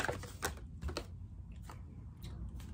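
Tarot cards are shuffled by hand in a quiet room, giving a few crisp, papery riffling bursts separated by short pauses, close and soft, with no talking.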